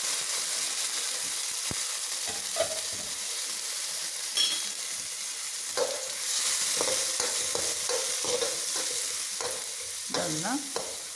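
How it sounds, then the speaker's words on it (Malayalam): Sliced onion and green chili fry in coconut oil in a pan, a constant close sizzle broken by scraping stirs and clinks of a spatula against the pan, louder and busier toward the end, with no talking. "ചീനിച്ചട്ടി അടുപ്പേ വെച്ചു കുറച്ച് വെളിച്ചെണ്ണ ഒഴിച്ചു. ഇതിലേക്ക് സവാള, പച്ചമുളക് ഇടാം."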